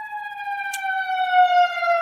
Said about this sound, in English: make sure that ambulance go past real quick